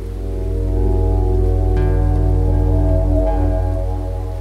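Steady rain falls in a continuous wash of hiss, constant and fairly loud throughout, with a low droning rumble beneath it and no voices.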